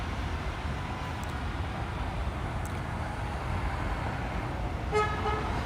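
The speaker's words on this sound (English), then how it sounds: "Except I hear all the street traffic." Steady street traffic rumbles through a late-night Williamsburg, Brooklyn scene, with a faint horn toot near the end over the constant wash of passing cars.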